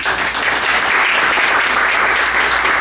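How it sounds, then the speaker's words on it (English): An audience at a tech-program data science event gives a dense, continuous round of applause, loud and steady throughout. "give yourselves one more round of applause."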